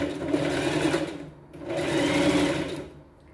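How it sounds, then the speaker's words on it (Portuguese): A sewing machine stitches fabric for a pet backpack in two close, steady bursts of rapid mechanical whirring, separated by a short pause. "vou dividir, colocar certinho ao meio, costurar"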